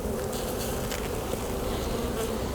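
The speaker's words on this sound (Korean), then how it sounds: "So when the bee is flying in and out of the hive" Honeybees buzz continuously around their hive, a dense steady drone of many insects flying in and out, close and fairly loud with no voices.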